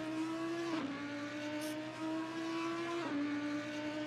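Race car engine from the Assetto Corsa racing game, an RRC 12-hour Nürburgring event, droning steadily with a strong tone that dips briefly twice, as if shifting or lifting, heard alone at low level.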